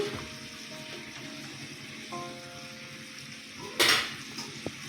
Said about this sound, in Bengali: এবার পটলগুলো ছেড়ে দেব দুটো কাঁচা লঙ্কা দিলাম